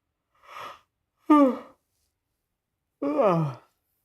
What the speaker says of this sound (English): There's my yawn.